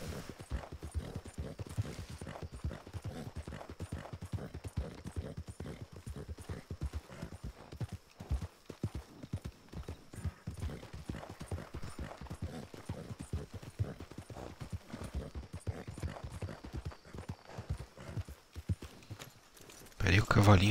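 Horse hooves clip-clopping steadily in Red Dead Redemption 2, a continuous rapid rhythmic trot loud in the foreground across the whole stretch, with someone talking over it and a brief louder burst right at the end.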